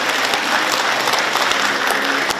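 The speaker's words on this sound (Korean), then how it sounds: "박수 부탁드리겠습니다." An audience at an indoor book launch event claps in a dense, sustained burst of applause that runs evenly from start to finish.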